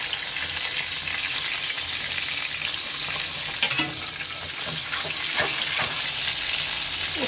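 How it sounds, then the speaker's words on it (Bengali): Pieces of large chitol fish fry in hot oil with a dense, steady sizzle. A few soft scrapes of stirring sound close by, and there is no talking. "এবার একটু ভালো করে ভেজে নেব"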